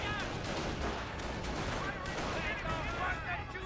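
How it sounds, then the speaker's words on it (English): Infantry gunfire in a Company of Heroes battle: dense, continuous crackle of rifle and small-arms fire with distant booms, steady and busy throughout, mixed with battle noise. "Both sides just happy, just shooting each other's infantry."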